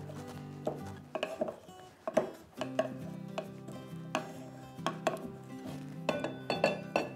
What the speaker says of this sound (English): I'm going to go ahead and muddle these ingredients to get a little bit more of that ginger flavor